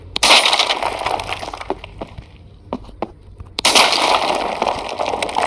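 Window glass smashing in the video game Building Destruction, two loud shattering crashes with scattered tinkling pieces and clicks between them, no talking.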